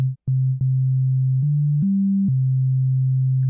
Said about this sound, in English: One oscillator, one filter, one envelope, and we'll play a note.